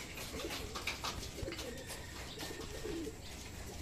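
Racing pigeons coo softly at the loft as the last bird returns from a 55 km club training flight, low repeated burbling calls heard fairly close against a quiet background.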